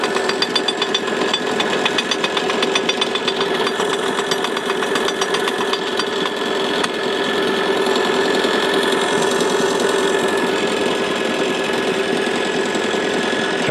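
A new anchor windlass motor on a boat hauls in a long run of anchor chain, a loud steady mechanical whine with a fast rattling clatter of links feeding through continuously, close by and without talk.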